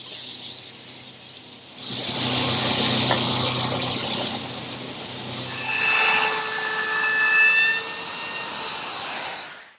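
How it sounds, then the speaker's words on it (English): An oscillating edge sander starts up with a loud whining motor roar and smooths a tapered wooden leg, the sanding belt squealing and rising in pitch as the wood is pressed against it, close and steady before spinning down. "I'm going to use my oscillating edge sander"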